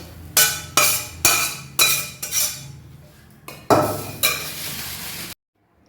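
Fried onions are mixed by hand into marinated chicken in a bowl, giving a series of sharp clinks and scraping knocks from utensil against dish, about eight strokes in an uneven rhythm, close and fairly loud, before it stops abruptly.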